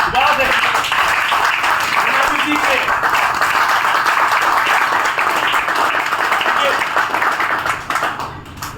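An audience at a business seminar in Haridwar claps loudly and continuously, a dense, close burst of applause that keeps going for several seconds before thinning at the end.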